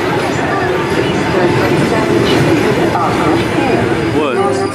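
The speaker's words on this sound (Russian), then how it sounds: "Прибывает московский поезд." A passenger train from Moscow rumbles steadily arriving at a station amid clattering and a murmur of voices, with a short squeal of brakes near the end.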